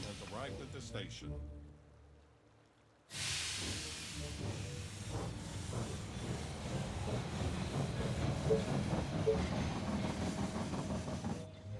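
In the zombie strategy game They Are Billions, a train pulls into a station with a sudden loud burst of steam hiss. A steady mechanical rumble and hiss follow, with quieter game sounds before it.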